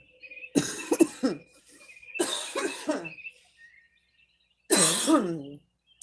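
Three bouts of harsh, close coughing and throat clearing, separated by brief silences, the last burst loudest.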